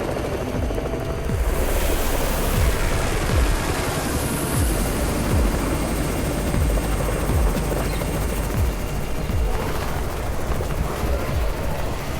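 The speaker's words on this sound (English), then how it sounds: "It's the Raven's chopper!" Helicopter arriving in the zombie video game Undawn: a steady, loud rotor roar fills the whole stretch, with sharp thumping impacts scattered through it.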